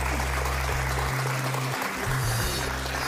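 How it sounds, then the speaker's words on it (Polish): Studio audience applause on a Polish television game show, a steady broadband wash of clapping heard throughout, with a low electronic hum and tones running beneath it. "Brawa się należą."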